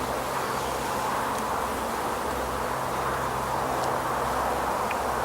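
Honeybees buzz steadily around an opened beehive being split into nucs, a dense, even drone with no talk, while a few brief higher whines from individual bees flick past.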